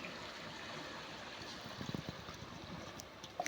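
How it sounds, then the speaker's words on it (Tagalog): Gentle sea waves at Protaras beach in Cyprus, a soft continuous wash with light splashes and small breaking bursts toward the end, fairly quiet. "Malaki na yung alon."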